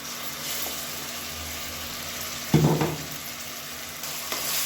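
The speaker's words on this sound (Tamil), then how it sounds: "இப்போ இந்த வெங்காயத்தோட பச்சை வாசனை போகிற அளவுக்கு வதக்கி விட்டுக்கலாம்." Onions with ginger garlic paste sauté in a pan for a potato curry, a steady close sizzle and crackle with one louder scraping stir partway through and a smaller one near the end, no voices.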